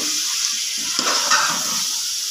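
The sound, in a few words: tinde (apple gourd) frying in a pan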